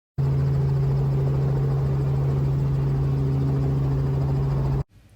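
A steady, loud droning hum with a constant low tone, like a helicopter's engine and rotor, runs unbroken for several seconds before cutting off abruptly.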